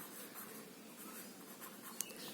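A pen scratches across paper during a maths lesson on ratio and proportion, the faint rustling strokes running steadily with one small tap, no talking over it.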